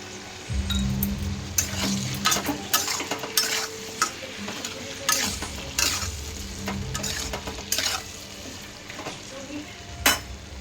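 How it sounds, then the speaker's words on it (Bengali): Vegetables with turmeric and salt fry in a pan while being stirred, giving a continuous sizzle and repeated scraping and clinking of a utensil against the pan; no voices. "এই সবজিগুলো ভালো করে ভেজে নেব।"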